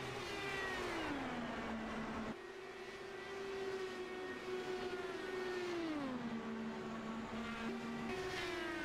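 Race cars accelerating on an oval track, engine notes rising and falling in pitch as cars pass, a continuous loud drone with shifting tones and gear changes.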